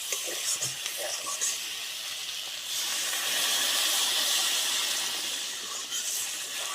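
Water poured into a hot pan of sautéed potatoes while making a Rupchanda fish curry, and a broad, hissing sizzle of steam swells midway and holds steady before easing slightly.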